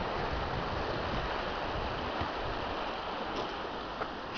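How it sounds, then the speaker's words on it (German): A babbling brook flows steadily beside a flowery meadow with lupines and peppermint, a continuous close rush of broadband water noise with no voices. "Und schöner Bach."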